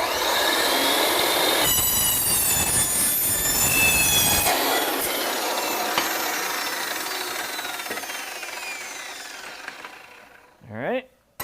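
A saw cutting through a metal chassis tube, a loud continuous high-pitched grinding screech that holds for about ten seconds, then fades, ending in a short squeal.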